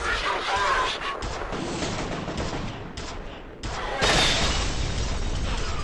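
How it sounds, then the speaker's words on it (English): Grenade explosions and heavy gunfire in the first-person shooter F.E.A.R., loud sustained blasts and crackling bursts filling the whole clip, with a sharp new explosion about two-thirds through and a voice talking underneath. "These guys really love throwing grenades at me"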